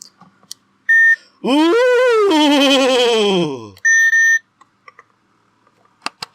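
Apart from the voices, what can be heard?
buzzer beeping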